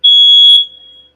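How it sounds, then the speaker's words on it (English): A smoke alarm in a room gives a single loud, piercing high-pitched beep about half a second long, fading quickly after it stops. "Excuse the alarm."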